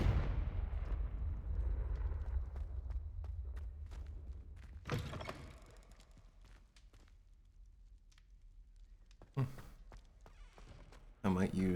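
A Confringo blasting spell explodes in Hogwarts Legacy, a deep booming rumble that dies away over several seconds, followed by quieter thuds and a couple of sharp bursts near the end.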